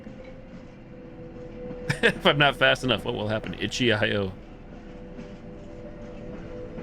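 A moving train in the video game The Derailed gives a steady low rumble throughout, with someone talking over the middle.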